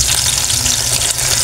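Loud, close sizzling and crackling as a Filipino anchovy omelette (tortang dilis) fries in oil and is flipped in the pan, a dense, steady hiss with no talking.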